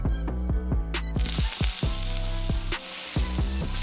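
Asafoetida spluttering in hot oil for hotel-style tiffin sambar, a loud, steady crackling sizzle with rhythmic stirring strokes in the pan, close up and with no talk.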